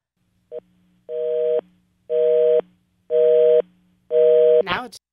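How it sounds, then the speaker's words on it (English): A telephone busy signal repeats four evenly spaced tones, each about half a second with equal gaps, heard clearly over a phone line after a short click, ending in a brief clatter. "left us with just a busy signal"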